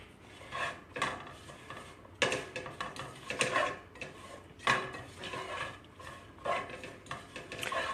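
Green beans tossed in a pan with garlic powder make a soft, irregular rattle and scrape, with light metallic clinks and rustling shuffles that come in small bursts and then settle.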